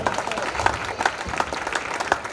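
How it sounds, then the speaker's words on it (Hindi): Steady applause from a crowd, many hands clapping together for a couple of seconds with no voices over it. "प्लीज एक बार जोरदार ताली उनके लिए।"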